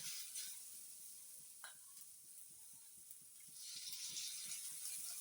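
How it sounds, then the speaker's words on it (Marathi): Oil heats in a pan with ginger and garlic for Malvani-style mutton curry, giving a faint, steady sizzle with light stirring taps, quiet and close. "त्याला घालणार आता थोडं भाजायला तेल"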